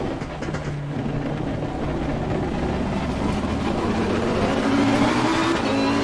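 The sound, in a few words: race car engine with traction control cutting power, Assetto Corsa Competizione video game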